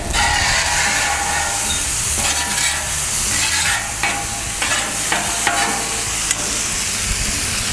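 Beef and rice sizzle and fry on a Camp Chef FTG600 flat top griddle, a steady close crackle broken by scraping and clinking of a spatula against the griddle surface.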